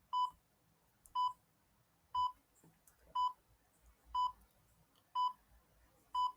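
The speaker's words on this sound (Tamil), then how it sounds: "டைமர் ஸ்டார்ட் பண்ணிடலாம்" Timer set for a timed aptitude question, giving seven short, evenly spaced electronic beeps about one second apart, clear and isolated against near silence.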